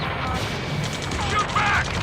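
Heavy gunfire in the video game Ace Combat 7, a dense continuous roar of shots and explosions during a combat mission, loud and steady throughout, mixed with battle noise.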